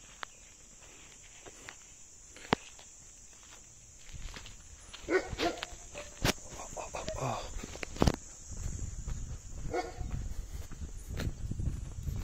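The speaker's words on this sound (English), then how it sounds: "Save me from dogs." Dogs bark near a village in Transnistria, sporadic barks at moderate distance against a quiet outdoor backdrop with a steady high insect-like whine, footsteps and faint rustling growing busier later on.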